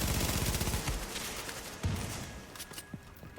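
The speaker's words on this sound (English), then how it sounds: "Blind fire!" Blind-fire gunshots in the video game The Division: a dense burst of rapid shots up front, then scattered louder single cracks and impacts, with a faint tonal ring near the end.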